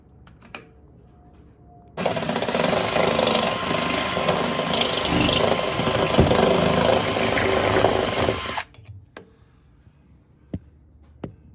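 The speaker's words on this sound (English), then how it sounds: "I'm just gonna start with a little pilot hole and go from the other side." A power drill bores a pilot hole for a roll bar mount on a VW dune buggy, a loud steady whine and grind lasting several seconds, with faint clicks and handling noises before and after.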